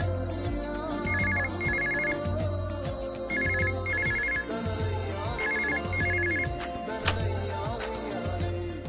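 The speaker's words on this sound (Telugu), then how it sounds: "అమ్మకు కూడా ఒకసారి ఫోన్ చేసి దీవెనలు తీసుకోవాలి." A telephone rings in repeated double bursts of electronic tones, loud and near, over a steady background score in a Telugu TV serial scene.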